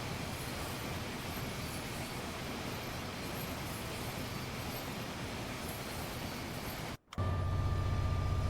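A Pendolino train rushes past in a train simulator, giving a steady broadband roar of rail noise that cuts briefly before a louder, tonal rumble takes over.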